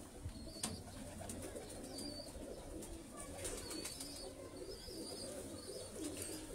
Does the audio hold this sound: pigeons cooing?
yes